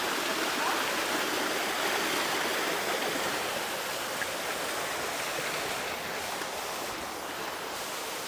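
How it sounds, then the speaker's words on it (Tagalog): Rushing water of a waterfall at Hacienda Amelia in San Luis, Aurora, heard close up as a steady, loud, broadband roar that fills the whole stretch without pause. "Tinatawag nilang falls."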